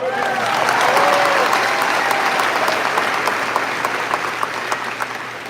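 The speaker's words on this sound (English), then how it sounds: "that's all right, you can applaud" Loud, sustained applause from a large crowd of Arkansas Razorbacks fans filling an arena at a coach's introduction, steady throughout and slowly tapering toward the end.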